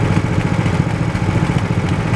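A go-kart engine runs steadily nearby. It makes a loud, even, low-pitched drone with a fast rhythmic pulse, and no voices are heard over it.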